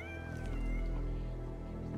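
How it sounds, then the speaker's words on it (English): A cat meowing in the video game Deus Ex: Mankind Divided, a drawn-out meow amid a dense, steady game ambience and music, moderately loud, with no talk. "I'm hearing a cat, but I have not seen any cats in this game."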